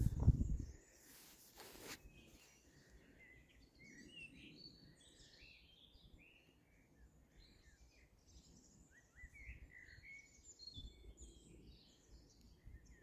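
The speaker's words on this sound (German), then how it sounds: "hört richtig die Vögel" Birds chirping and singing in a forest, faint scattered calls over quiet outdoor ambience, with a few brief rustles and steps near the start.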